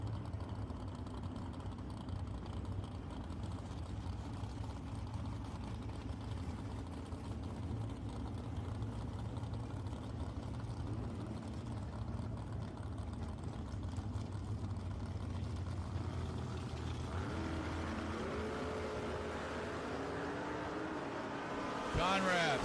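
Drag racing cars, a Chrysler and a Corvette, rumble at a steady idle through the staging, then engines rev and rise sharply at the very end as the launch begins, with announcer talk over the din.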